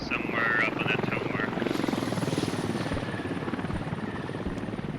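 A helicopter flies overhead in a video-game mechanized battle, its steady rotor thrum and engine buzz holding throughout, loud and continuous, with brief tonal game sounds near the start.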